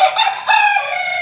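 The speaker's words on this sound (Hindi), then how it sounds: "मुर्गा साहब जो है ना वो अपनी मुर्गी फ्रेंड को बार बार बुला रहे थे" A rooster in a rooftop garden calling to a hen, giving loud, close crowing-clucking calls in two connected bursts, clear and alone without any talk.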